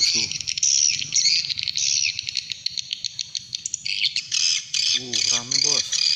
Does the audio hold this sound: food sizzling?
no